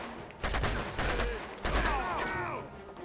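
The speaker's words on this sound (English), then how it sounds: "Let's get to shooting." Gunfire in Uncharted 2: Among Thieves, a burst of rapid shots and echoing blasts mixed with game noise and a voice, moderately loud over about three seconds.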